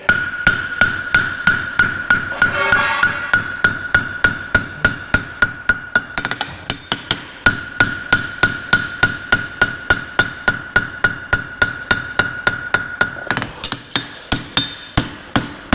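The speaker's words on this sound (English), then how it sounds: "a little bit of hammer boxing" A farrier hammers a steel horseshoe on an anvil in a fast, steady rhythm of loud ringing metallic blows, dozens of strikes with a bright sustained ring between them and brief pauses.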